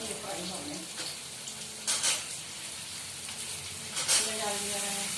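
Onions and potatoes fry together in a pan, a steady sizzle with two bursts of louder spoon-stirring scrapes, while a voice speaks faintly now and then.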